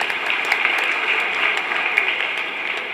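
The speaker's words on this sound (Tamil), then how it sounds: "ஒரு கைத்தட்டுவ கொடுங்கம்மா" A hall audience at a Tamil motivational speech event gives steady applause, an even wash of many hands clapping at moderate loudness with no talk over it.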